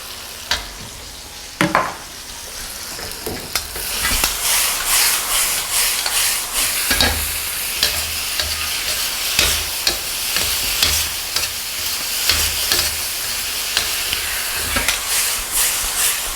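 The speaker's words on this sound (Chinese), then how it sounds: "快速的翻炒均匀" Potatoes with oyster sauce stir-fry in a wok, a loud, hissing sizzle with steam and rapid metallic scraping and tossing of the spatula, close by and continuous after a quieter start.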